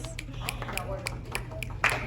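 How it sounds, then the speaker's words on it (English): A handful of light, scattered claps from a small group applauding volunteers. They are fairly faint over a low room hum and last only a couple of seconds. "Round of applause."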